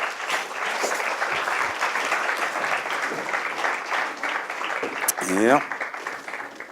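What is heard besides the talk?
audience applause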